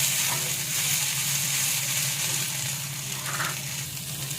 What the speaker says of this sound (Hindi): इसके बाद डालूंगी ये मैं कॉर्न, मक्के के दाने। अब मैं इन्हें डाल के भी अच्छे से फ्राई कर लेती हूँ।